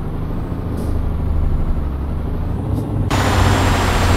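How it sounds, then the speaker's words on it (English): Steady low heavy-truck engine drone labouring up a hill in Euro Truck Simulator 2, constant and loud with a hiss of road and air noise, the tone rising slightly toward the end. "Oh dear, look, the engine's straining now"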